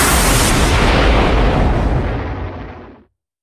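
A lightning bolt bursts in a Filipino aswang horror tale, a loud roaring explosion that sustains for about two and a half seconds and then fades quickly into silence.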